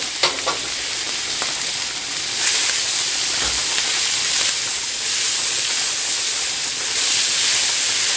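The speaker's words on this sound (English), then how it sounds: "Put my vegetables in there. You're just going to saute those up" Vegetables sautéing in butter in a pan, a steady loud sizzle and hiss close by with faint stirring clicks, continuing without pause and with no talking.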